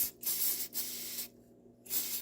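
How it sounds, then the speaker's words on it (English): Mass airflow sensor cleaner is sprayed onto the MAF sensor of a Porsche Boxster in three short, close hissing bursts separated by brief pauses. "just going to give it a good spray down"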